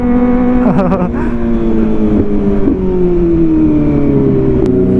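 A Kawasaki ZX25R four-cylinder motorcycle fitted with an Arrow exhaust holds a loud, high, buzzing idle close by, with a couple of quick throttle blips early on and a steady drone after.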